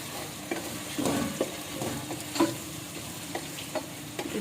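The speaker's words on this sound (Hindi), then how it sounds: "अब इसमें हम अपने टमाटर शामिल करेंगे। मिर्चें भी डाल देंगे। इसको थोड़ा चलाएंगे।" Tomatoes and chillies fry in a pan with a steady sizzle while a spoon stirs them, its scrapes and taps landing irregularly at close range, with no talk.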